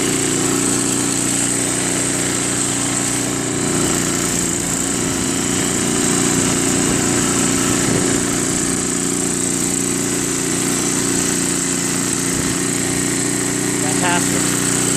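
Craftsman 522 snow blower with a Tecumseh engine, running steadily with a constant loud buzzing drone throughout, near and continuous, with a voice briefly over it.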